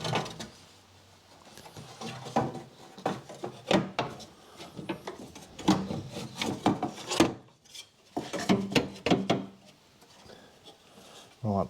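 A metal tray is being fitted back into the engine bay of a 2010 Honda Jazz 1.2 petrol, with close scraping, rubbing and clunking of metal against body panels in irregular bursts.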